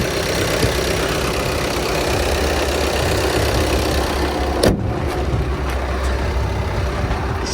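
A Volkswagen Touran 2.0 TDI diesel engine idles steadily and loudly up close, a dense constant rumble with a slight rattle, holding even throughout apart from one brief knock midway.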